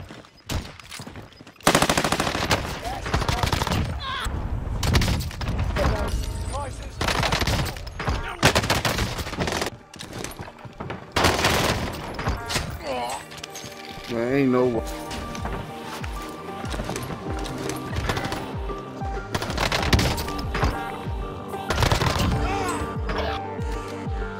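Automatic gunfire on Rebirth Island in Call of Duty Warzone, rapid bursts and sustained fusillades throughout, loud and close with brief pauses, while a voice talks intermittently.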